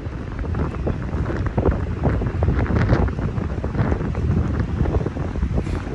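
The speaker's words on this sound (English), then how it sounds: "Wind is blowing the pages of Matthew" Wind buffets a microphone outdoors at a night camp, a loud continuous rumbling roar with gusty swells that fills the whole stretch, with no talking.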